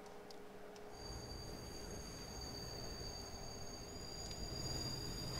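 A train approaches in the horror game Layers of Fear: Inheritance: a faint, low rail rumble with a thin, steady squealing whine of wheels held above it, and no talking.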